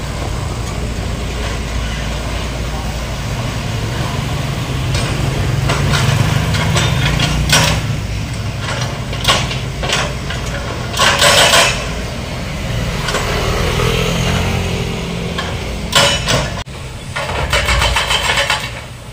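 A heavy diesel engine of demolition equipment runs steadily with low rumble beside railway tracks, punctuated by clanks and crunching bangs of houses being torn down; faint voices occasionally under the noise.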